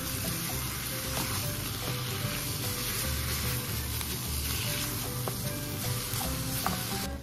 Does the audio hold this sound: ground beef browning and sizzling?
yes